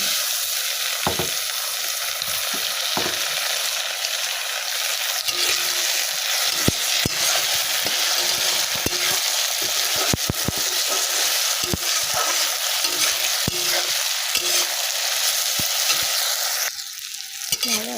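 Rice frying with a katla fish head for muri ghonto makes a loud, continuous hiss of hot oil, with frequent scraping and clattering strokes as the pan is stirred throughout.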